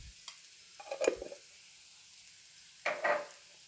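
Onions and green chillies sautéing in a pan for upma, a quiet sizzle broken by two short bursts of stirring and scraping.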